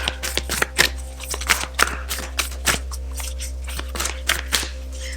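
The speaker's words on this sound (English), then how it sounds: "That's why the shuffling can take quite a while" Tarot cards being shuffled by hand close up, a rapid series of crisp riffles and slaps repeating irregularly over several seconds against a low steady hum.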